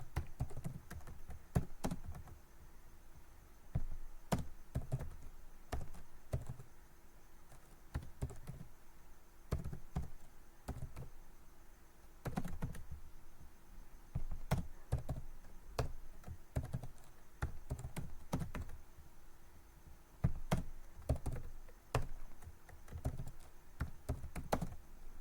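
Computer keyboard typing runs steadily through the whole stretch, with bursts of close, quick key taps broken by short pauses, fairly quiet and with no one speaking.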